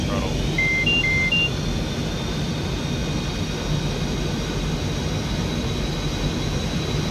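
A steady, loud aircraft engine roar at full throttle in a flight simulator game, a dense continuous drone with a few brief electronic beeps near the start and no speech over it.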